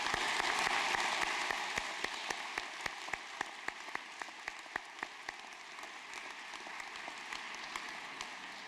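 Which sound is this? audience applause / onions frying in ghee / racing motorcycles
audience applause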